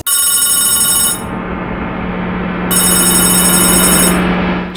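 A telephone rings steadily, its bright electronic tone filling the clip, with a low hum underneath and no talking.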